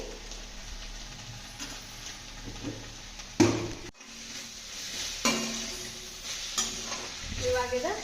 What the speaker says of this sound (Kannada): ಶೇಂಗಾ ಹಾಕೋದ ಮರೆತು ಬಿಟ್ಟೆ ಈಗ ಒಂದು ಸ್ವಲ್ಪ ಡ್ರೈ ರೋಸ್ಟ್ ಮಾಡಿ ಇದಕ್ಕೆ ಹಾಕೊಂಡ್ಬಿಡ್ತೀನಿ